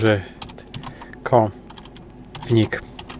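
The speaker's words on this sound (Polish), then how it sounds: "Wpisujemy sobie nasze hasło i jesteśmy zalogowani." Fast keystrokes on a computer keyboard while a password is entered at a Linux login, a close run of light clicks with a voice speaking over parts of it.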